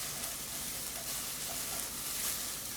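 Food sweats in a pan with only a very little oil, making a steady, soft sizzle with a light crackle throughout.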